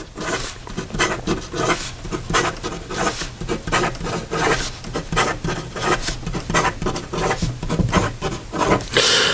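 A Penlux Metallic fountain pen writes fast on paper, making a steady, dense scratching and rubbing sound close by, with quick rhythmic strokes throughout and no talking.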